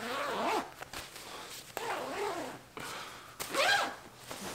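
An Aegismax UL sleeping bag zipper is pulled in three separate strokes, each a rasping slide of a second or less, up close with short pauses between and no talking.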